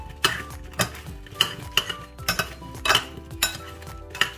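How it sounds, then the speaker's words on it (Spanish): Utensils clink and scrape against a dish while Brussels sprouts seasoned with salt are tossed before roasting, a sequence of sharp, close metallic knocks in an uneven rhythm with no talking. "Voy a mezclar."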